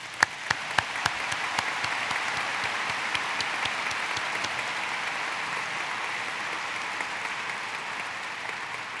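A large commencement audience applauds the faculty at the 2012 Butler University ceremony, with a few sharp nearby claps at the start before the applause settles into a steady, even roar.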